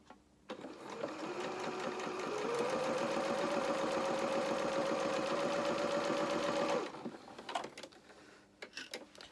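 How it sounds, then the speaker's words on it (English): Sewing machine stitching quilt pieces with a quarter-inch seam, a steady close mechanical whir that rises in speed, runs evenly for several seconds, then stops, followed by faint handling clicks. "Then I'm going to stitch down."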